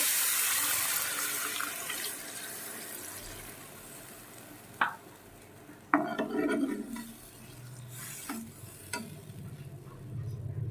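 Water splashes steadily into a hot pan of spice-fried potatoes for a tangy, spicy fish curry, followed by sizzling and a few clattering stirs close by.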